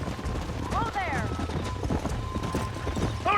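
Horses galloping in the Red Dead Redemption video game, a rapid stream of hoofbeats under loud shouting, with a brief whinny rising partway through and wind rushing throughout.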